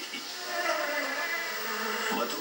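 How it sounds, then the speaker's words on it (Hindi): Cartoon bees buzz in a steady, continuous drone hovering over flowers in a farm field, a close, even hum with no one talking. "मधुमक्खियां अभी भी भिनभिना रही थी।"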